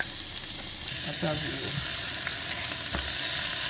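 Green herbs and onions fry in olive oil in a pan, a steady close sizzle running throughout with a few brief clinks and stirring scrapes partway through, a voice briefly audible.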